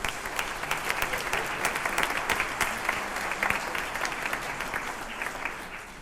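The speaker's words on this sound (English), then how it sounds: "But let's give him a round of applause." Concert audience applauding at a holiday jazz band concert, steady dense clapping filling the hall for about six seconds with no talk over it.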